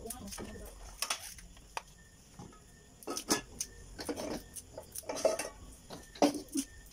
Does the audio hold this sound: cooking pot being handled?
yes